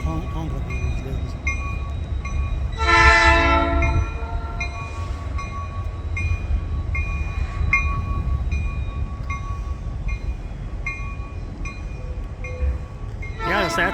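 A freight train rumbles past close by with a continuous rolling drone, a short horn blast early on and another brief horn note at the very end; people talk over it.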